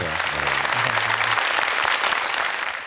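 A talk-concert audience claps loudly and steadily throughout, with a few voices and a brief tone at the start under the dense applause.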